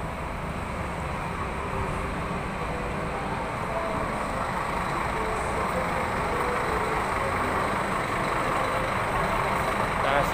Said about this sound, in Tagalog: Kasi yun po yung open bus nila.